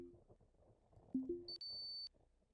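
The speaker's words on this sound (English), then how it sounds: "All right, there's the alarms." Alarm tones from the space salvage game Ostranauts, a steady high electronic beep sounding alone for about half a second after a couple of short lower blips, clear against quiet background ambience.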